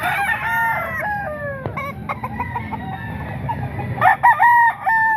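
Roosters crow repeatedly amid clucking chickens at a rooster market, several loud harmonic calls overlapping near and at mid distance, with a few sharp knocks and background bustle.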